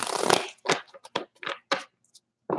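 A deck of tarot cards is shuffled by hand in several quick bursts of riffling and slapping, close and crisp, with short silent gaps between each pass.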